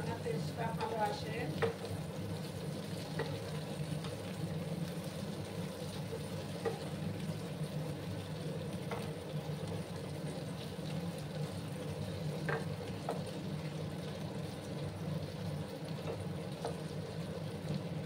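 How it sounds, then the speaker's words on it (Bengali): Broad beans (shim) fry in a pan in a Bengali vegetarian dish, a steady close sizzle with intermittent scraping clicks of a spoon stirring, and no talk. "শিমগুলো ভেজে নেব। একটু সময় নিয়ে কিন্তু শিমগুলোকেও ভেজে নিতে হবে"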